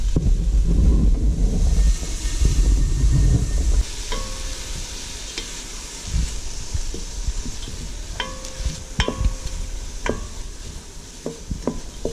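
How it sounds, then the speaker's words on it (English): Seasoning sautés in a lightly oiled pan on low heat for a shrimp, ground meat and squash casserole: a steady, close sizzle and stirring scrape, with sharp clicks of a utensil against the pan later on. "then I'll saute the seasoning"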